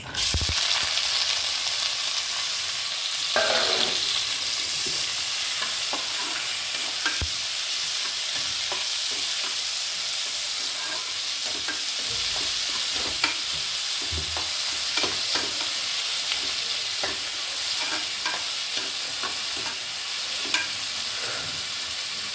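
Steady sizzling of fennel seeds, cinnamon, cloves and onion frying in hot oil, with occasional stirring clatter, continuous and fairly close with no talking.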